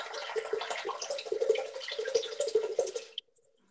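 Water is poured into a Thermomix bowl, a close, steady gurgling splash lasting about three seconds before cutting off abruptly.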